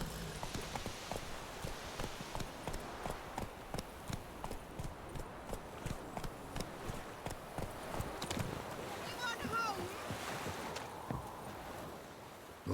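Roach the horse gallops in The Witcher 3, a steady run of rhythmic hoofbeats close by, with a faint voice and light ambient noise behind.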